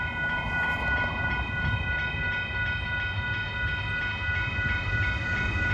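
An Amtrak SC44 passenger locomotive passes close by, loud and steady, a broad rumble of wheels on rail topped by sustained high tonal whines from the train.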